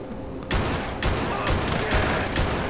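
Handgun fire in GTA 5 rings out in a rapid series of loud, close shots, several sharp bursts overlapping across a few seconds with no talking.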